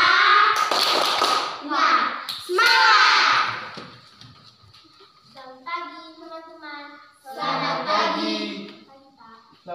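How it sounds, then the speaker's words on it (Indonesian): A classroom of children gives group 3 a rhythmic cheering clap, loud bursts of claps and chanting voices at the start and again near the end, with kids talking in between. "Tepuk semangat untuk kelompok 3."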